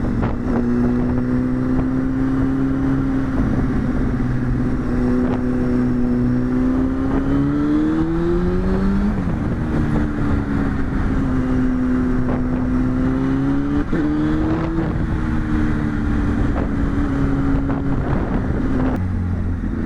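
A 1999 Honda Hornet 600 motorcycle engine drones steadily while riding, recorded from inside the helmet, its pitch rising and falling with shifts in speed, with wind rushing across the microphone throughout.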